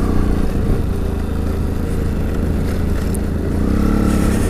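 A motorcycle pulls away in first and shifts into second, a steady close engine drone with loud continuous road and wind rush around it.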